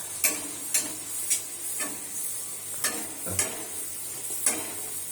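Dough frying in hot oil at home, a steady low sizzle with a few soft clicks and stirs coming at intervals, close and quiet, with no talking.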